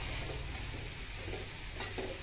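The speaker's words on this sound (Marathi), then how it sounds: "भेंड्या ह्या चांगल्या परतवून घ्या। कमीत कमी 2 मिनिट तरी त्या चांगल्या परतायला हव्या।" Okra sautéing in a pan, a faint, continuous sizzle with gentle scraping as it is stirred, close but quiet throughout.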